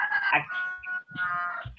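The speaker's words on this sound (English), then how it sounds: "who has a rooster there?" A rooster crows nearby in a short, loud, strained call, broken by a brief gap before the final trailing notes.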